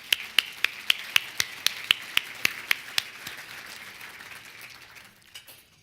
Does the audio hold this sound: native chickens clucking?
no